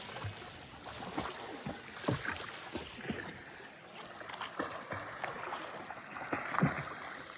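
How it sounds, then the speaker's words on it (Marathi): A small boat moves across the water with irregular splashes and sloshing strokes, faint wind noise running underneath throughout. "तू मारता बाबलू होडी?"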